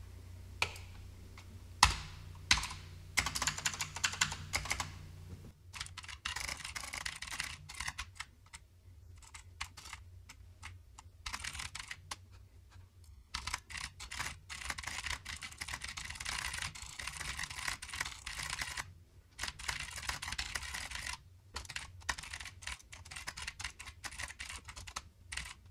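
Close, steady typing of code on a computer keyboard for an Arduino program driving an RGB LED strip, with bursts of quick clicky keystrokes broken by short pauses and no talking.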